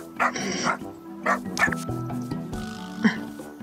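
A cartoon puppy in the video game Little Friends Puppy Island gives several short yips and whimpering barks in uneven bursts over soft game music, close and moderately loud.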